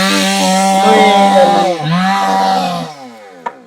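A loud power tool whines steadily while cutting, its pitch dipping under load midway before easing off near the end, with a sharp knock just after.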